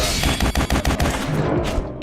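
Rapid weapon barrage from an arm move in the video game Beast Force: a dense, loud stream of rapid-fire shots and impacts running continuously for about two seconds, with no voices.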